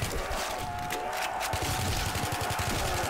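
Rapid gunfire from a World at War custom zombies video game, with dense, continuous bursts of shots and clattering over a steady din, and no pauses across the stretch.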